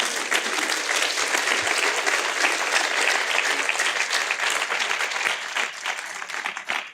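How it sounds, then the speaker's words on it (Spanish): A church congregation claps and applauds together in a dense, steady wash of hand claps that fills the space for several seconds, with no talk over it. "Denle un aplauso al Señor."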